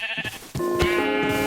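A Minecraft sheep gives a single loud, close bleat with a wavering tone, heard alone without talk.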